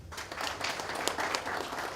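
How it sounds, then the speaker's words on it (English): Audience applause at a university law society event for Lawyers' Day, a quiet, steady patter of many hands clapping at a distance for the law society leader. "Please, let's clap for him."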